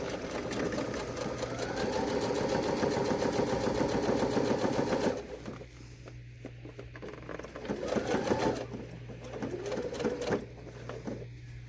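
A sewing machine stitches a face mask in a steady, close mechanical whir, running continuously, pausing briefly, then restarting in short bursts.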